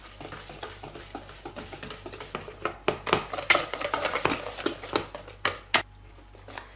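Pancake batter being whisked until smooth in a bowl, a rapid irregular series of close clicking, tapping strokes that grow louder and busier midway before trailing off.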